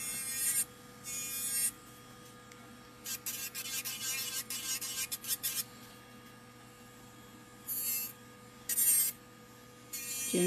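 An acrylic nail, finished with frozen glitter, is filed to taper the sides and bevel the shape, giving soft raspy strokes in repeated bursts with pauses between them, close and fairly quiet, with no talking.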